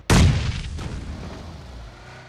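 A grenade goes off in PUBG Mobile as one sharp, loud boom that rolls away into a rumbling decay over about two seconds, with no talk.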